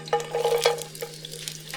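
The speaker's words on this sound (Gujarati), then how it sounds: "મીડિયમ ગેસ ઉપર ઓનિયનને સહેજ શેકાવા દઈએ" Quartered onions frying in cooking oil over medium gas heat, heard as a short run of close stirring scrapes over a soft sizzle, with a steady low hum underneath and no voices.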